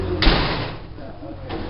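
A heavy door slams shut with a loud, close thud and a brief rattle, followed by room noise and faint talk.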